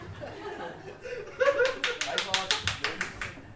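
Audience clapping in a run of about ten evenly spaced, fairly loud claps that starts after some chuckling and a short burst of murmur.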